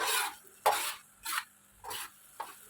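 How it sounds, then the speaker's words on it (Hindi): Garlic-ginger paste fries with mashed urad daal in a dhaba-style pan, heard as soft, evenly spaced stirring scrapes about every half second over a faint sizzle. "मिक्स करके 2 टेबलस्पून लहसुन अदरक पेस्ट ऐड करेंगे। 3 मिनट फ्राई करेंगे।"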